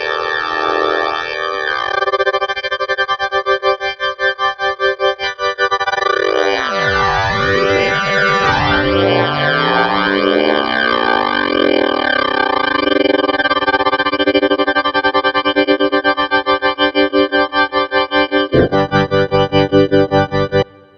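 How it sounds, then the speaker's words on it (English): A ring modulator effect on a Legend Soul 261 gives a metallic, clanging tone with inharmonic overtones that bend and sweep midway, then settles into a steady, pulsing drone that runs continuously to the end. "And lastly, there's ring modulator."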